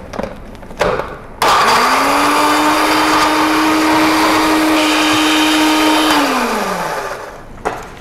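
A blender whirs at a steady high speed for several seconds blending garlic, ginger and a little water, then winds down, with a few clunks at the start and end.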